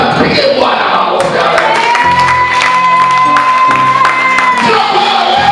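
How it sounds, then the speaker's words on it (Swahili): An audience at a motivational teaching session claps and cheers loudly and continuously, with whoops, while a sustained musical tone plays underneath. "Pige Bwana makofi."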